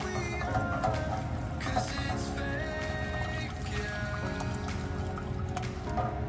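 Beef broth pours into a cooking pan in a steady liquid stream with gurgling and splashing, fairly close, alone without talk.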